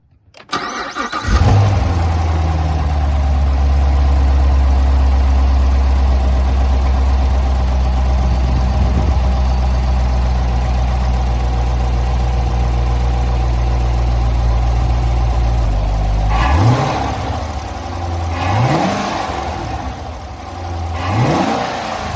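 A C7 Corvette Stingray fitted with an Injen intake cranks and catches, then settles into a loud, steady idle for about fifteen seconds before three sharp revs rise and fall in quick succession near the end.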